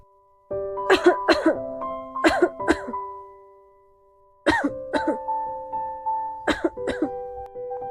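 Repeated coughing comes from inside a hut, several clusters of harsh, close coughs in quick bursts separated by short silences, sounding like an elderly grandmother.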